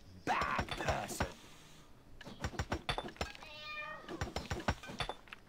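Cats in the online game Black Desert Online meow repeatedly among clinks and mechanical clatter from the game, several meows close and clear.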